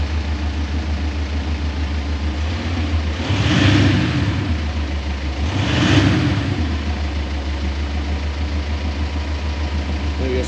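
A VW Amarok engine fitted with a Kufatec exhaust sound booster on setting 3 idles with a steady low rumble, swelling twice into brief deeper revs before settling back.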